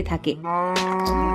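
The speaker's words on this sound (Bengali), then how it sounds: "এই গরুটা এভাবে ডাকছে কেন?" A cartoon cow moos in a long, sustained, harmonic bellow right after a brief spoken word, loud and close, holding steady for over a second.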